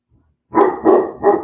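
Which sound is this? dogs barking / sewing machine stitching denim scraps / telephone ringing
dogs barking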